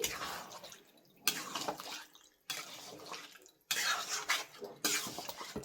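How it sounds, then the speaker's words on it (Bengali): Water splashing and rinsing in a bowl to wash off leftover masala while cooking chicken kosha, in four or five separate bursts of splashing broken by short quiet gaps, fairly close. "মশলাটা লেগে আছে তো একটু জল দিয়ে ধুয়ে নিলাম।"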